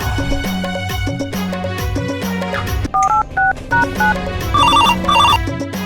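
Electronic phone tones beep in short repeated bursts, like keypad dialing and a ring pattern, set over steady background music.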